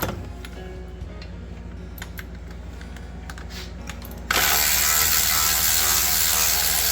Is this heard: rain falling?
no